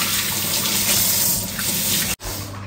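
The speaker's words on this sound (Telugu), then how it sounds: "Hand wash." Tap water runs steadily into a sink as hands are washed, a close continuous gushing that cuts off briefly near the end, then resumes.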